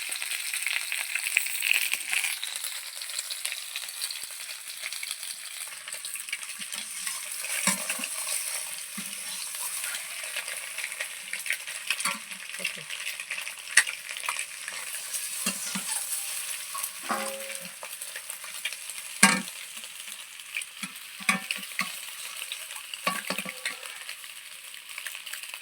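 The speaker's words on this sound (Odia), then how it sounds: "ଅଣ୍ଡା ଭଜା ଆମର ହେଇଗଲା।" Eggs fry for an egg curry, crackling and spitting steadily in a pan while being stirred, with occasional scrapes and clinks of the utensil rising above the constant sizzle, no voices.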